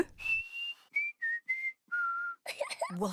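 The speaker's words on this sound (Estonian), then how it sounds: "Kõlas nagu vile." Cartoon pig character in Peppa Pig whistling a short tune: a series of clear, separate whistled notes, some held longer, close and fairly soft, with a burst of talking right after.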